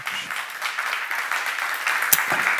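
A church congregation at a seminar bursts into steady applause, a dense, even wash of many hands clapping for a few seconds with no break.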